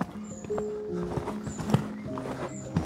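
A horse's hooves land softly on an arena surface during dressage schooling of shoulder-in work, in a muffled, irregular rhythm under steady background noise.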